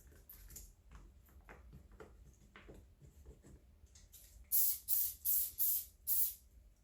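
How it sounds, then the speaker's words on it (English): Cooking oil is sprayed onto sweet potato fries in five quick, loud, evenly spaced hissing bursts, following quieter handling noises. "And then I turn them over and spray the other side."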